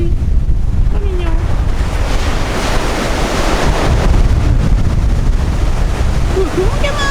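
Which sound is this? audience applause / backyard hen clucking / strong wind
strong wind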